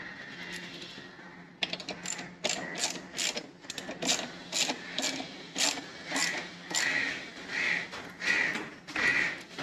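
A bolt on a Kawasaki Ninja 300 grab rail being tightened by hand, a rapid series of regular clicking ratchet strokes, close up and alone.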